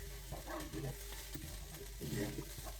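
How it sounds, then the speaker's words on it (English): Rice is stirred into a chicken and cauliflower curry in a pan, with soft scraping and sizzling that comes in uneven bursts, close by. "I will then stir the rice into it."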